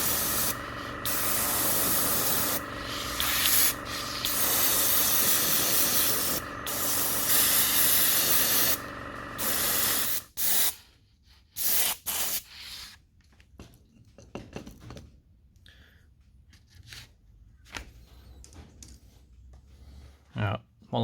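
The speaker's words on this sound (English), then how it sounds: "I might actually spray them with a colour shift." A steady hissing spray paints lipless crankbait fishing lures for about ten seconds, stops, then gives way to quieter scattered handling noises and short bursts.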